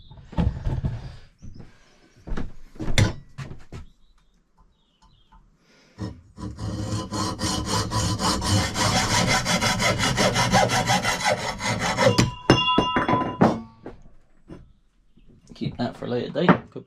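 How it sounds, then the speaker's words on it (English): A handsaw cuts straight through a part in a workshop, a few short strokes first, then a long run of steady rapid back-and-forth rasping strokes, close and loud, with brief pauses. "I'll give that as straight a cut as we can."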